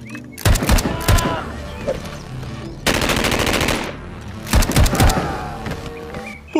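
A toy gun fires in quick bursts of rattling shots, in several loud clusters with short pauses between them, up close and alone with no talk.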